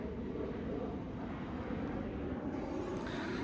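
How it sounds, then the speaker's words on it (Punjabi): An airplane passes over a house excavation site in Australia, heard as a steady, faint, distant broadband rumble that holds evenly throughout with no talk. "ਜਹਾਜ਼ ਜਾ ਰਿਹਾ ਦੇਖੋ"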